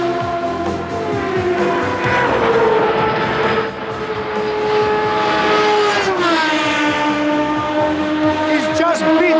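Indy cars racing at Surfers Paradise in 1993, Nigel Mansell's car lapping the street circuit, a loud high engine whine that sweeps down in pitch as the car passes, with a voice talking over it.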